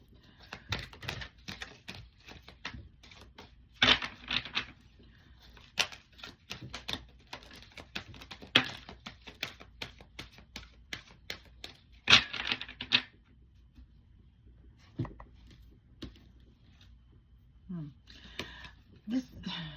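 A deck of cards is shuffled up close, making rapid crackling bursts of riffles mixed with softer taps and clicks as the cards are handled, in irregular spurts.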